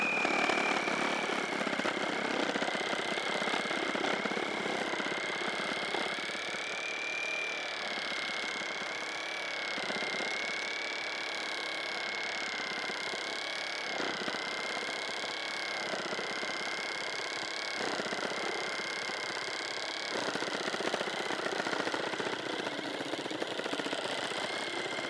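A RIDGID Max Output reciprocating saw runs with orbital action switched on, a steady loud buzzing whine that holds for about 25 seconds, with slight dips in load but no pauses and no talking.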